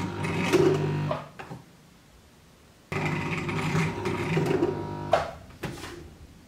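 A home sewing machine whirs steadily in two runs, stalling and jamming because the thread was fed wrongly, with a short gap between bursts and a few sharp clunks near the end.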